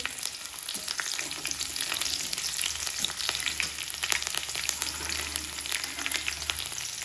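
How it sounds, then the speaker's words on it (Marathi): Finely chopped garlic and green chili sautéing in a pan, a constant close crackling sizzle with occasional spatula scrapes and stirring over a low background hum. "लसूण पण परतून घेते आणि थोडीशी हिरवी मिरच पण घालते"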